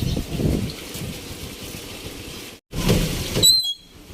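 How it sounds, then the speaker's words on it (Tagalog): Heavy rain pours down near a river during a stormy northeast-monsoon evening, a dense, steady hiss broken by a brief dropout, with a few thin squeaks near the end. "lakas ng ulan"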